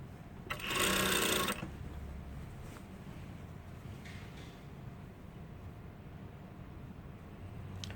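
A sewing machine stitches a fabric waistband in one short, steady whirring burst. Quiet room noise with faint low rumble and a few soft clicks follows, and no one speaks.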